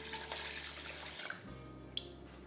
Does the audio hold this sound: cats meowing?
no